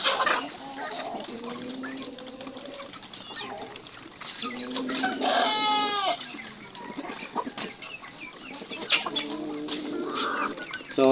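Chickens cluck in a coop, with several birds making repeated clucks and squawks at moderate loudness against steady farmyard background noise; no voice is heard.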